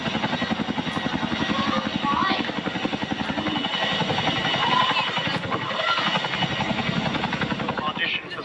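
A Chinook twin-rotor transport helicopter flies overhead with a loud, fast, rhythmic rotor thump over a turbine roar, steady throughout, with a voice speaking over it.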